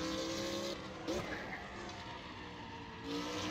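A car drifts in the racing game Assetto Corsa, its engine droning steadily with tire squeal and skidding throughout, while someone talks over it.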